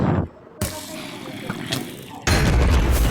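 A shot fired in a survival game fight between armored players, a sudden booming burst that cuts in loudly, with a dense noisy blast closing the short clip.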